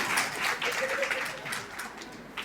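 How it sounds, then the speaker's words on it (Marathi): Audience at a Navratri festival discourse gathering clapping, a brief scattered round of hand claps mixed with crowd murmur and some voices, moderately faint. "टाळ्या वाजवा"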